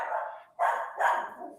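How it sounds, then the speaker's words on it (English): A pet dog barks three times in quick succession, close and fairly loud, with short gaps between the barks and no talking. "that's my dog."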